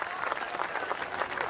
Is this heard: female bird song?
no